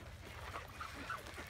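Canada geese honking at a bird sanctuary on Westham Island, Delta BC, a few short faint honks over a low, steady background rumble.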